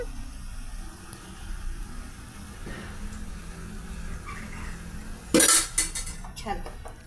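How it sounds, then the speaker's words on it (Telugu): Vegetable pieces tossed with oil inside a metal container give low scraping and stirring, then a sharp burst of clanking metal, close by with faint background noise. "ఇక ఈ పీసెస్ని మామూలుగా ఇలా కంటైనర్లోనే మిక్స్ చేసేద్దామండి."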